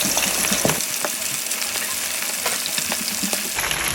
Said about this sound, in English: while the fish is frying